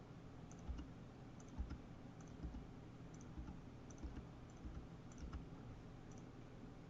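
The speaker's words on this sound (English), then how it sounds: "Just make sure you're left clicking" Left clicks of a computer mouse while selecting clipart parts in CorelDRAW: faint, sharp clicks at irregular intervals, roughly a dozen over several seconds, close against a soft steady room hum with no talk.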